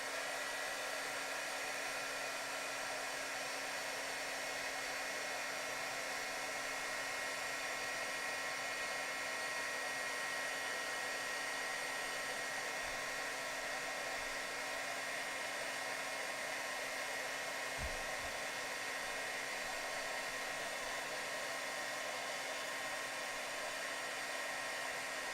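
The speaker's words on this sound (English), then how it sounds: "I'm gonna go in here and I'm gonna heat emboss this really quickly" A heat embossing tool blows hot air over embossing powder on a card, giving a steady, continuous fan-like whir with a faint high whine, unbroken and alone.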